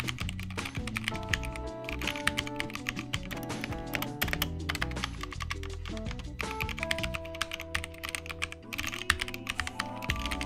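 Rapid typing on a Drop CTRL mechanical keyboard fitted with linear switches, a dense, steady stream of soft clacks and taps running continuously and close up, with no voices.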